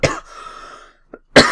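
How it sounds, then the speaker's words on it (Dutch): A person coughs twice, close and loud, with a sharp burst at the start and another near the end, separated by a short wheezy breath and a faint catch. "Ik moet hoesten."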